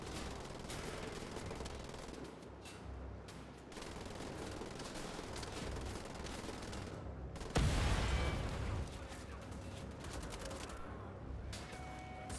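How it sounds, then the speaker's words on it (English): Turret machine gun firing in the Wolfenstein: The Old Blood video game, sustained rapid bursts in long stretches with short pauses and a heavier explosive blast partway through. "Who doesn't like a good underrail turret section?"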